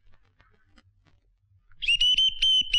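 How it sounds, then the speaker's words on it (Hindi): A loud, shrill whistle blows in repeated short bursts, piercing and close, following a near-silent stretch with faint background sounds. "इसकी तो सीटी बच गई"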